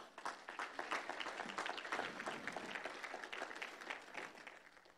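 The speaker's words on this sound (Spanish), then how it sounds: "De un aplauso al Señor." Church congregation applauding together during a sermon, a sustained burst of many hands clapping, fairly faint and distant, fading slightly toward the end.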